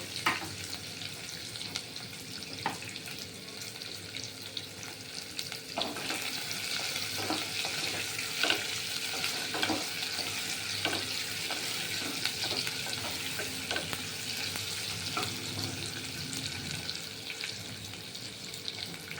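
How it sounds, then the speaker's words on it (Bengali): Soybean chunks frying in a pan for chilli soyabean, a steady sizzle running throughout with intermittent clinks and scrapes of a spoon stirring, close and moderately loud with no talking. "একটু নাড়াচাড়া করবো হ্যাঁ একটু সামান্য একটু ভেজে নেব"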